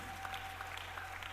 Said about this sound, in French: Applaudissez très bien.